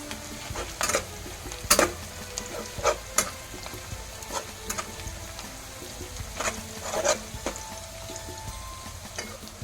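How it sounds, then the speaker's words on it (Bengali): Onions fry in a pan for dhaba-style chicken curry, giving a steady close sizzle broken by repeated scraping stirs of a spatula against the pan, with no voices. "পেঁয়াজটা প্রায় ভাজা হয়ে এসছে"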